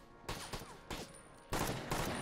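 Gunfire in the video game PUBG: several sharp bursts of shots crack out in quick succession, fairly faint and distant, separated by short pauses.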